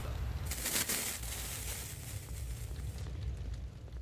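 A firecracker goes off in the fireworks game Fireworks Mania: a burst of hissing, crackling noise that swells at once and rumbles steadily for a few seconds before thinning out, with no talking.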